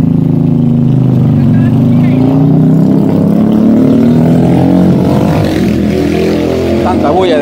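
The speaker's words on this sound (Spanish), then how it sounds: "Tanta bulla de moto, hombre." A motorcycle engine drones loudly nearby at a rural spot, its uneven rumble rising and falling steadily under people talking throughout.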